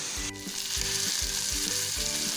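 Chicken tikka pieces sizzle steadily in a hot pan, a loud continuous frying hiss with a low rhythmic bubbling pulse underneath and one brief tap near the start.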